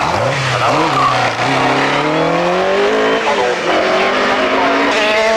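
Race car on a track spinning out, tires squealing and skidding in long sliding tones over a loud engine drone, with brief commentary voices underneath.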